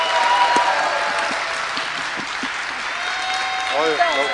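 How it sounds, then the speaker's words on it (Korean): Big applause from an audience at a pre-election political concert welcoming a new party member, steady dense clapping throughout, with voices and a brief tonal sound rising near the end. "큰 박수, 네, 큰 지지의 박수"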